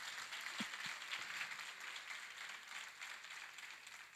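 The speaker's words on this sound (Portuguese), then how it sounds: "Podem aplaudir" A church congregation applauds at a Sunday service, a faint, distant wash of clapping that runs steadily for a few seconds with a couple of low thumps near the start.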